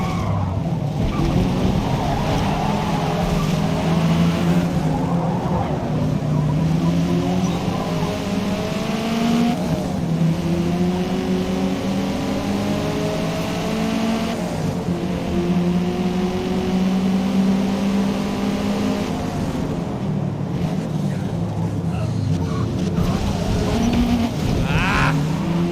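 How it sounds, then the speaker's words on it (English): Race car engine in Forza Motorsport, loud and continuous, revving through repeated downshifts with pitch rising and dropping in steps, some tire noise mixed in. "Somebody else downshift and I downshifted again. All the way down to the first."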